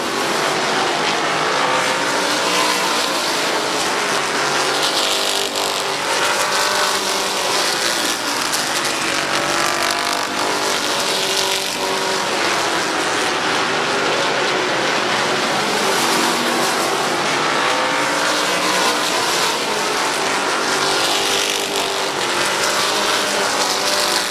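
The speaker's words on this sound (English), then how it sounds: "Dennis Wood pulls pit side in the 88." Race cars circling Midvale Speedway, a continuous loud roar of engines that swells and fades as the field passes, dense and unbroken throughout with faint background chatter.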